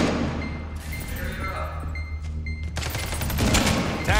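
Bursts of gunfire from a first-person shooter match, sharp shots and rapid volleys mixed with thuds and game effects, building in density toward the end, with a voice talking quietly in places.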